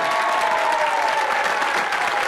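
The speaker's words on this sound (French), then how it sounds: "On peut les applaudir" A studio audience at a 1992 Quebec TV game show, La Guerre des Clans, applauds the winning family team with sustained, even clapping; a faint tonal sound runs underneath.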